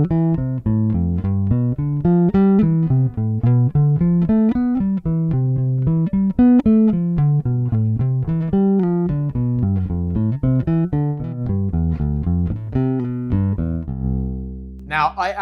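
A bass guitar picks out seventh-chord arpeggios, steady plucked notes climbing and falling in even rhythm, close and clear, ending on a sustained ringing low note.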